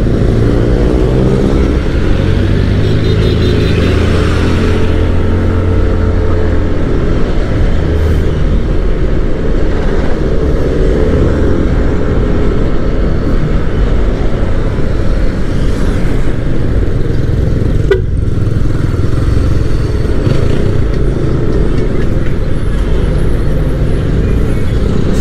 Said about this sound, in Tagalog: Medyo traffic lang dito mga kapulido.